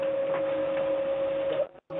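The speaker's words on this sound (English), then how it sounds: "Printer is working" An office printer runs with a steady tonal whir and faint ticking, close and fairly loud, then cuts out briefly near the end before resuming.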